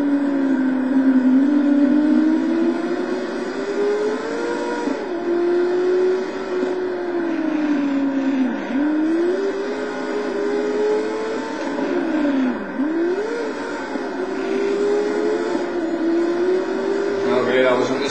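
Vemac race car engine in the Total Immersion Racing video game, a steady droning whine that rises and dips with revs and shifts throughout, with a person talking over it.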